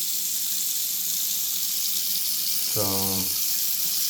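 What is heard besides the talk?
water draining slowly in a clogged bathroom sink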